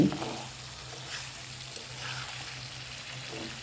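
Fish with teasel gourd sautés in a pan, a soft continuous sizzle under a low steady hum, with a faint clink at the start and occasional light stirring scrapes.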